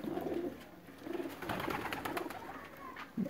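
Sialkoti pigeon, a Sialkoti-Dhadi cross, cooing softly in low repeated phrases with a brief louder coo at the end, amid faint background noise.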